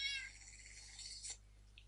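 A cat meows once in Minecraft, a short, clear, slightly bending cry up close, followed by a faint click, with no talking.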